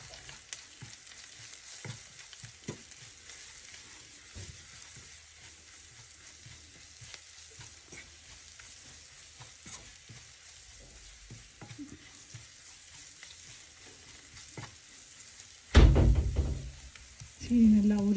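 Pumpkin chutney sautéing in a pan with salt and sugar, a steady soft sizzle with occasional spoon knocks and stirring, ending in a few louder clatters and a brief voice.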